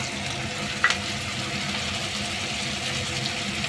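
A ground paste of white mustard seed, poppy seed and green chilies fries in a pan with a loud, even hiss and sizzle, with a brief splashy clatter early on as it goes in.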